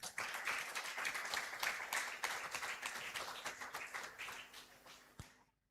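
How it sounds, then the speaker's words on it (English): An audience applauds at a book launch and unveiling ceremony, a full round of clapping that stays steady, then thins and fades to silence near the end. "bigger round of applause"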